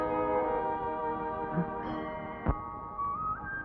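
A sustained ringing temple bell tone hangs in the air, steady and resonant with a long fading hum, and a single sharp knock cuts through midway.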